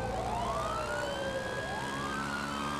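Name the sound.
police sirens in the video game GTA 5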